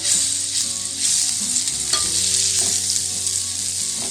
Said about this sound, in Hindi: पैन में मक्खन ले लेते हैं या ऑयल भी यूज़ कर सकते हैं आप। इसको मेल्ट होने देते हैं।